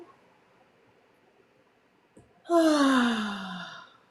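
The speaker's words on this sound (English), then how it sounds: "So let's just take some nice deep breaths and just begin to breathe deeply, breathing in slowly and deeply." A slow, deep breath during a guided relaxation session: a long, audible sighing exhale follows a quiet stretch, close to the microphone and fading out over about a second and a half.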